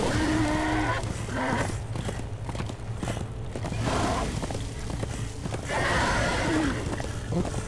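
Horse in the action game Darksiders II gives two loud, shrill whinnies with hoof clip-clop and combat noise around them, near and prominent.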